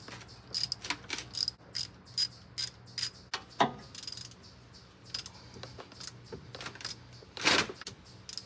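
Impact wrench on a Ford 6.7 Powerstroke diesel truck, bursts of sharp ratcheting and hammering in repeated short runs, close and fairly loud, with no talk over them.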